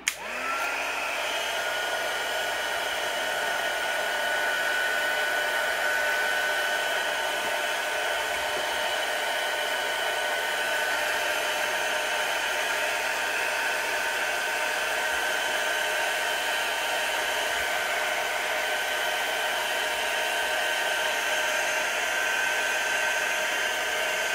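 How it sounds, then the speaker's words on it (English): Small heat gun blowing steadily while warming a plastic piece, a constant close whooshing fan-and-air hiss with a faint high whine, unbroken from start to finish and with no talking. "So this is just a small heat gun, which works great."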